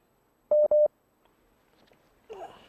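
Two short identical telephone ringback tones sound in quick succession while a call to a quiz contestant connects, loud and clear, followed by faint line noise and a brief muffled sound.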